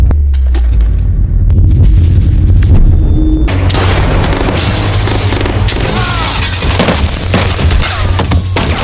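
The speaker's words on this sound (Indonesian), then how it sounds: "terjadi baku tembak yang membuat keadaan semakin chaos" Gunfire from a film shootout, loud rapid booming shots and bangs in dense bursts over a low rumbling score, with crashes and chaotic impacts building through the scene.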